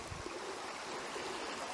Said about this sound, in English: First creek crossing.